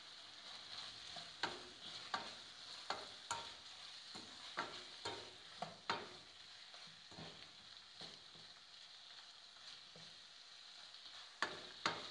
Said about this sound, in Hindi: इसको मैं मज़ीद थोड़ी देर के लिए फ्राई करूंगी।